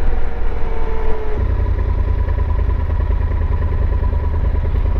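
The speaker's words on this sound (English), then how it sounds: "Oh, the motorcycle is in front of me." A nearby Harley motorcycle engine rumbles steadily with a low, throbbing idle, a brief higher whine fading early, continuous and fairly loud throughout.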